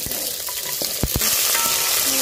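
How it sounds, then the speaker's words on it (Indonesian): Chopped ginger, garlic and shallots sauté in a hot pan. A brief, close sizzle swells about halfway through, marked by a few sharp clicks from the utensil. "langsung kita tumis jahe, bawang putih, bawang merah yang sudah dipotong-potong."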